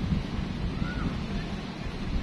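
Sea surf rolls in at Batu Hiu beach, a steady wash of waves with wind buffeting the microphone throughout.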